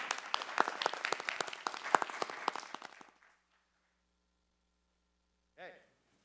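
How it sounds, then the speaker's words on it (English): Audience applause for local election candidates at a senior citizens' forum, a dense burst of many hands clapping for about three seconds, then fading to near silence before a brief voice. "This is one time that we can do applause"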